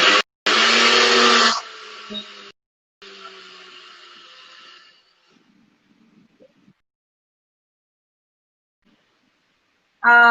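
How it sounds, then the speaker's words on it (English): A NutriBullet blender spins a raw vegan Nutella mixture in short bursts, first a loud high whir, then a lower grinding run that fades out into near silence. "I'm just gonna put it back in the NutriBullet just to let it spin a bit so that it can mix everything together"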